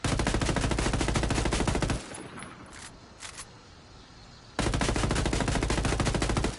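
An AK-12 assault rifle fires in the Ghost Recon video game in two sustained automatic bursts, loud and rapid, separated by a short pause with faint clicks of handling.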